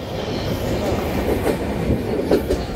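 A MEMU train passes at over 80 km/h near Taloja Panchanand station, a loud, continuous rumble with rhythmic clatter of wheels on rails throughout.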